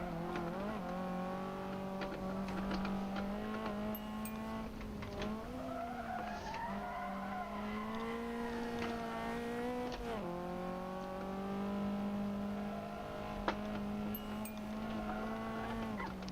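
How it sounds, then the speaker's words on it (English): Sustained tire skid from a car sliding out of a turn in the Gran Turismo racing game, a steady tonal squeal with shifting pitch over engine drone, continuous and fairly loud with no talk. "And I slid out of the turn."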